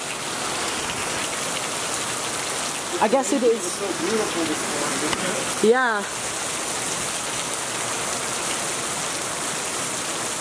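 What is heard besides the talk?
rain falling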